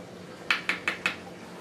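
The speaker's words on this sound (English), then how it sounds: "Give it a quick little stir." Quick stirring of a nitrite water test sample makes four light, rapid clinks of a small utensil against a glass vial, close and clear, with a quiet background.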